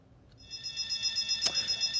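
An electronic alarm sounds in the video game Project Matis, where units are overheating. A bright, steady high-pitched ringing tone starts abruptly and holds, with one sharper burst in the middle, moderately loud with no talking.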